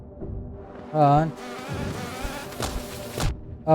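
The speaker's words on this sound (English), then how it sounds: "Oh my god, these bees." Buzzing bees in the Hollow Knight video game, a wavering insect drone with a loud swelling buzz near the start and further buzzes over a game soundscape.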